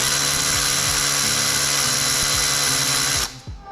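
An electric power tool whines loudly and continuously as it backs out cylinder head bolts on an SR20 engine, the steady high motor drone cutting off abruptly near the end.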